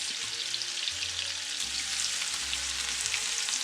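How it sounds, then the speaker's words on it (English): Onions sizzle steadily in a hot pan, a dense, continuous crackling frying hiss heard close up with no talking. "we are going to cook these onions in here"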